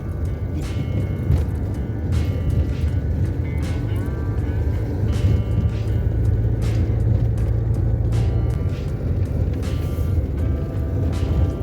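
A Renault 12 car driving on a snow-covered road in second and third gear: a steady low engine and road rumble heard from inside, continuous and fairly loud, with faint clicks and rattles over it.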